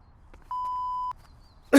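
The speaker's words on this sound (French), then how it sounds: "Laissez votre message après le bip" A single clean electronic voicemail beep, a steady mid-pitched tone lasting about half a second, preceded by faint clicks and followed by a short burst of noise.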